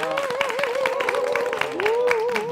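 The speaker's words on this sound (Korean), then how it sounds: "우리 떡을 이렇게 정성껏 만드느라 수고하신 이미란 씨께 큰 박수 부탁드립니다." An audience claps for a woman who made rice cakes at a Korean talk-show taping on a Paju Heyri studio set, a steady patter of applause under a voice speaking over it.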